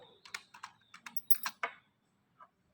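Rapid, irregular keystrokes on a computer keyboard while entering text into a table during a computer science lesson, about a dozen close, crisp clicks in uneven bursts that trail off into a final lone tap.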